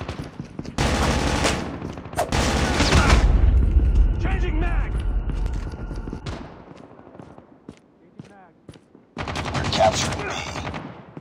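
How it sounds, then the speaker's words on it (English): Bursts of automatic rifle fire crack through a Call of Duty Mobile multiplayer match, several rapid volleys separated by brief pauses, loud and close, with game voice callouts heard between shots. "Gunshot!"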